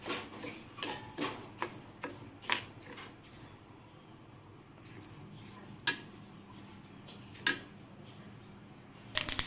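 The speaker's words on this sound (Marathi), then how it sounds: "आता यामध्ये हे जवस आपण टाकून घेऊयात आणि याला एक 10 मिनिट बारीक गॅसवर छान असं भाजून घेऊयात" Flax seeds dry-roast in a hot kadhai over low gas, with a burst of quick ticking and clinking stirs early on, then mostly quiet with a few isolated scrapes.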